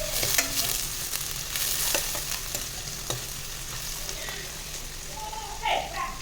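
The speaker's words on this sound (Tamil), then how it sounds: "ஆனியன் நல்லா வதங்குற வரைக்கும் நல்லா வதக்கிக்கோங்க" Onions sautéing in a pan for eggplant kuzhambu give a steady close sizzle and hiss, broken by a few spatula scrapes as they are stirred, with someone talking over the cooking.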